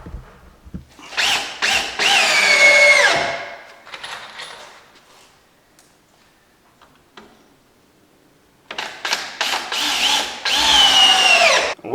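A power drill drives screws into wood while preparing the hole for a wood burning insert: two long bursts of whining motor with rising pitch and rattling, separated by a quiet pause, close and loud.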